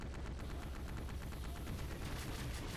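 A pulse cannon fires at enemies in Duke Nukem: Manhattan Project, giving a dense, rapid stream of loud shots that keeps up without a break for the whole moment, with no talk.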